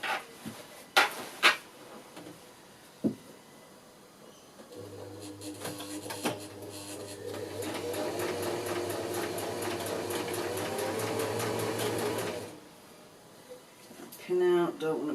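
A sewing machine stitches a pool blanket cover in one steady, humming run of about eight seconds, preceded by some handling knocks and rustling.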